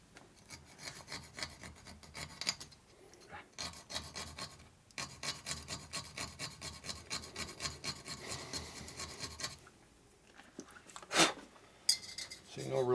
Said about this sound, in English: no real fancy tools needed, just stupid vise and a file.